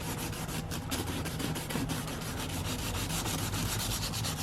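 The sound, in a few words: fine sandpaper scuffing worn Mercedes-Benz seat surface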